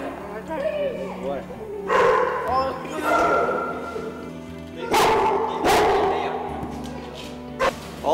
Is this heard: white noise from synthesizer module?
no